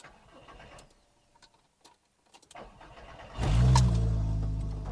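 A mk2 VW Golf GTI swapped to a five-cylinder engine: quiet mechanical clicks and rattles, then the engine barks up loudly near the end and keeps droning on.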